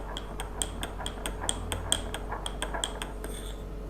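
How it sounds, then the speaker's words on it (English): A spoon stirs a jewellery cleaner mixture with dish detergent in a glass, giving a steady run of light, bright clinks and taps over a low background hum. "After you add the dish detergent, just give it a little stir"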